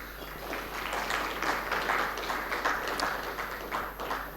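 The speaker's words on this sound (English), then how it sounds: "Ladies and gentlemen, a resounding round of applause." An audience at a business breakfast meeting applauds, a steady patter of many hands clapping at moderate distance, fairly quiet and even throughout.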